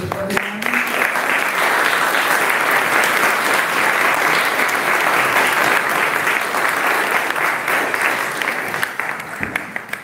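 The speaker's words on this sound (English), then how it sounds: "you can give a round of applause to everyone" An audience at a local candidates forum breaks into loud, steady applause that holds throughout and tapers slightly at the close, with a brief voice at the start.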